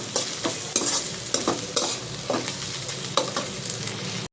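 Ginger, garlic and green chilli frying with ground spices in a pan, a steady sizzle broken by repeated scraping stirs at a regular rhythm, close and clear.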